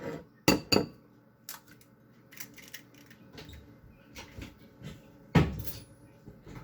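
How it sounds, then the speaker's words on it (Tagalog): An egg is cracked for chicken bites: two sharp taps of shell against a bowl rim come close together, followed by quieter kitchen handling and one more solid knock later, with no talking. "I'm going to crack one egg"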